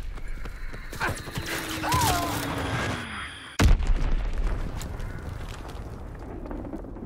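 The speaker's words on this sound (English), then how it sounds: "Enemy bomb incoming! Get to cover!" Explosions and gunfire in a WW2 shooter game: a muffled rumbling battlefield with a short descending whine, then a sharp loud blast at mid-clip followed by a lingering rumble and debris noise.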